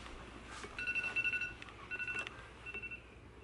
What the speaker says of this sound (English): I hear the alarm.